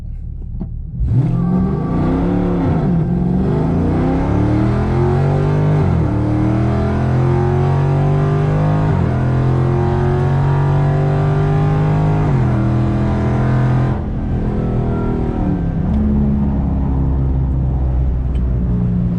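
Car on Nitto NT555 G2 tires accelerating hard from a standstill on a small road, a loud continuous engine rising in pitch through several gear changes, each shift dropping the note before it climbs again.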